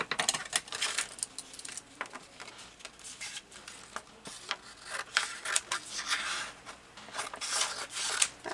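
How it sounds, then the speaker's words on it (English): Close-up snipping and rasping as scissors cut through paper, in irregular bursts with small rustles between cuts. "Scissors."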